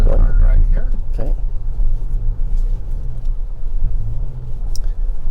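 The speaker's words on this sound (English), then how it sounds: "So I just went over some extremely rough condition, driving at about 30 to 40 miles per hour" A Toyota Tacoma TRD Pro with Fox suspension rumbles loudly over extremely rough off-road terrain at about 30 to 40 mph, with a steady low road roar and cabin noise throughout and a voice speaking briefly at the start.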